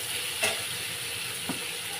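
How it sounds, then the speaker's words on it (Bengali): Eggplant and potato pieces sauté in a hot pan with a steady close sizzle, broken by two brief scrapes of a spatula stirring the vegetables. "খুলে ফেলে আমি এই সবজিটা কষে নিচ্ছি"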